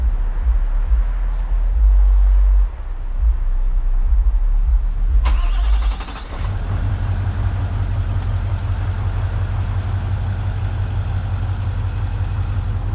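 A 2017 Nissan Titan XD with a Cummins diesel engine is quiet at first, then cranks and fires up partway through and settles into a steady, fairly subdued low idle that carries on to the end.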